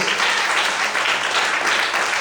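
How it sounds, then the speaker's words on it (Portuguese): A church congregation claps strongly during a sermon, a thick, continuous roar of many hands at full volume filling the room for a couple of seconds with no voices on top. "Quantos podem aplaudir e glorificar ao Senhor muito forte?"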